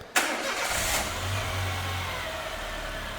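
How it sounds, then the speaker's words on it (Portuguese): A Renault Sandero 1.0 8V with an intermittent accelerator fault cranks and catches with a sharp burst. It then rises to a brief rev and settles into a steady mid-pitched idle, heard nearby with no talk. "O Wellington vai ligar o carro lá para nós, por favor."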